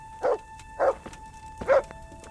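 Dog barking in the video game Kingdom Come Deliverance: three separate woofs spaced about half a second apart, close and clear, over a quiet background hum.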